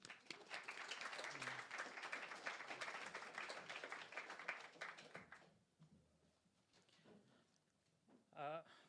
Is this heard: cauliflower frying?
no